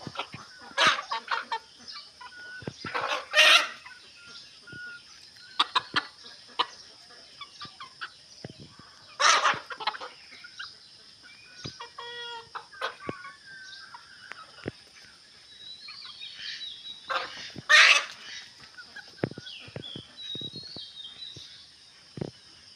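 Desi chickens cluck and call in a morning yard, scattered soft clucks broken by a few loud, close squawks, with quiet stretches between and no talk.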